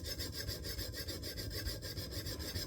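A knife is drawn steadily across a 300-grit stone on a KME guided sharpener, giving a continuous close rasping and rubbing with a quick repeating stroke rhythm and no voices.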